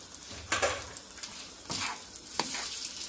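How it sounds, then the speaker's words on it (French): Boiled spaghetti being stirred into a courgette sauce in a pan, with a soft background sizzle broken by three scraping, squelchy stirring strokes. "Mélangeons très bien, délicatement."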